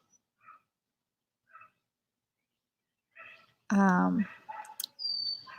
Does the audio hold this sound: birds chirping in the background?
yes